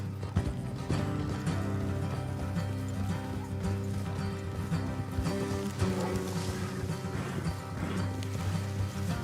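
Horse hooves clip-clop steadily through a thick, busy game soundtrack in Red Dead Redemption 2, riding beneath music and ambience without standing out sharply.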